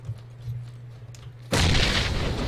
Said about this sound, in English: Did you just throw a frag grenade?